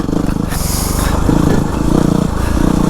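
A Yamaha WR250R dirt bike rolls off-road with its engine rumbling steadily and loudly up close, mixed with rattling and wind noise as the throttle rises and falls slightly.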